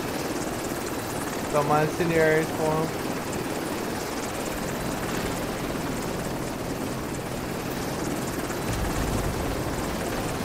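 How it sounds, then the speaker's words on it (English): Helicopter inbound in the Tom Clancy's The Division 2 video game, a steady broadband rotor rumble running throughout beneath brief in-game voices and player talk, with no clear swell of approach. "Chopper inbound."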